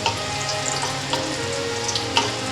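Broken green chillies frying in hot oil in a kadhai, a close, steady crackling sizzle with a few light clinks of stirring scattered through.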